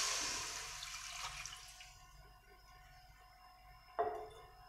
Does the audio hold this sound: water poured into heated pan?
yes